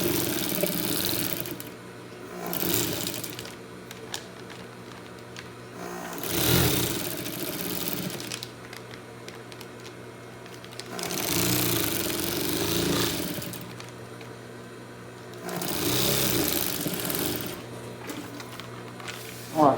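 A sewing machine stitches fabric for a homemade bag made from packaging, running in several steady whirring bursts separated by brief pauses, close and moderately loud.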